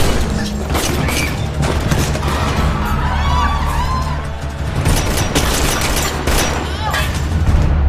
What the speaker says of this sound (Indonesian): suara tembakan tersebut membuat seluruh tamu yang sedang berpesta langsung panik